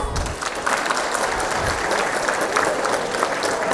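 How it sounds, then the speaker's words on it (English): Steady rhythmic-free clapping from a seated audience at a community Ugadi celebration, a dense, even wash of applause lasting several seconds at moderate level. "Let's use your claps. Claps, claps, claps."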